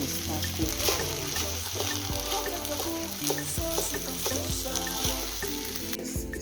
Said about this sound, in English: I'm still toasting it, and this rice is still toasting.